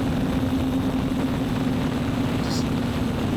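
A large fibre optic FPV drone flying, its steady engine-like drone and hum continuous throughout, with a strong low tone, the fibre optic cable trailing behind it.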